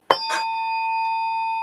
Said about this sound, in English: I had some tuning forks.